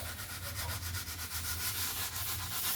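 Steady back-and-forth scraping of 1000-grit sandpaper rubbing old varnish off wood by hand, rhythmic strokes close by with no talking.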